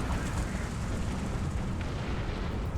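A heavy, rumbling explosion from an air attack in the tank game War Thunder, a dense low roar of blast and crackling debris sustained close and loud throughout.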